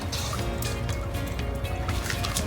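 Water spraying from a new hose nozzle to rinse off garden tools outdoors, a steady close gushing splash with dripping and trickling, and no talk.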